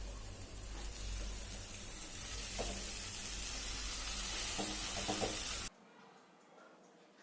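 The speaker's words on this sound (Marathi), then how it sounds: "आता आपण आहे ना मिक्स करून घेऊ कोथंबीर छान अशी त्याच्यामध्ये" Steady loud sizzle of chopped coriander being mixed into a hot frying pan for kothimbir vadi, a continuous hissing fry that cuts off abruptly near the end.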